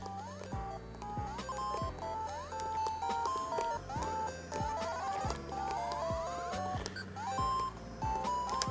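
Chiptune Game Boy game music played through a PlutoBoy emulator on a PS Vita: bright square-wave beeps playing a bouncy melody over a steady electronic bass line, with no talking.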